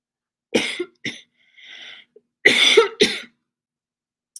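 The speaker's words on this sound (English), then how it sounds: "I don't know where that cough came from." Several dry coughs in quick bursts, close by, with a short throat-clearing rasp between them, then silence.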